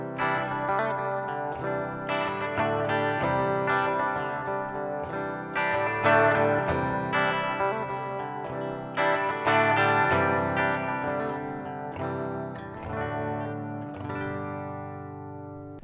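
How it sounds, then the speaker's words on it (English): Electric guitar played through a NUX Trident multi-effects pedal with heavy reverb, chords and notes ringing out with long washy tails, loud and continuous with no talking. "Oh, there's a lot of reverb."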